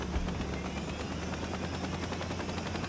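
A large helicopter in the video game Saints Row gives a dense, steady rotor chop, a fast rhythmic thudding over a broad engine whine, loud and continuous throughout with no talking.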